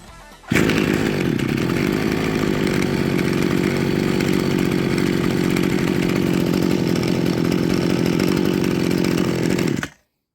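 An Efco 8250 Ergo petrol brush cutter runs loud and close after a short start, its two-stroke engine holding a steady, buzzing idle-to-run drone for about nine seconds before cutting off abruptly.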